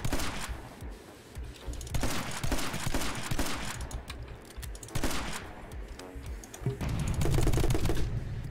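Rapid gunfire in the My Friend Pedro video game, clattering bursts of shots layered with game music and impacts, fairly quiet overall and without talk.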